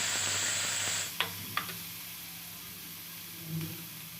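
Potatoes and capsicum frying in a pan, a bright hiss that drops off after a second, followed by two sharp utensil taps and a quieter steady sizzle.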